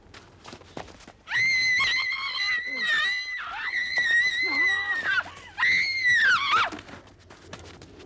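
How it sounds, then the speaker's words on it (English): A woman's loud, sustained, high-pitched screams in a nighttime street attack in Berkhamsted, a few long cries close to the listener, with thumps and background sounds between them. "It seems her screams caused the attacker to run off."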